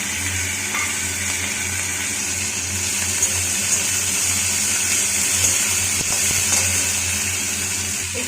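Okra, potato and onion frying together in hot oil, a steady, dense hiss and crackle that holds at an even level throughout with no pauses.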